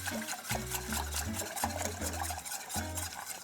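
A whisk works stock into a cold flour roux for a velouté sauce, making repeated rhythmic sloshing strokes in the pot. A low steady hum runs underneath throughout.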